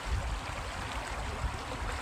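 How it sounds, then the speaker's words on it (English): A babbling stream flows over rocks, a steady close rush of water with soft gurgling low in the mix and no voices. "you'll be able to hear this stream makes kind of a babbling sound"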